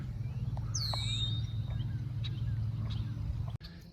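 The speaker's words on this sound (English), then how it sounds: "There's a red-winged blackbird flying around." A red-winged blackbird calls near a pond, a single clear whistled note over a steady low rumble, fairly faint and at a distance.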